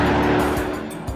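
A Corvette sports car drives past, its engine a loud, rough rumble that swells and fades over about a second, with no voices.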